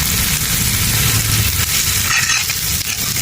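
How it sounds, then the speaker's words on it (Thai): Pounded garlic stir-frying in a hot pan while preparing a spicy stir-fried crispy tilapia dish, giving a loud, continuous sizzle and crackle with faint scraping of stirring and no talk. "กระเทียมโขกตำเรามาคั่วครับ"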